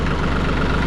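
Tractor engine idling nearby on a farm, a steady low, throbbing rumble with a constant even vibration and no talk over it.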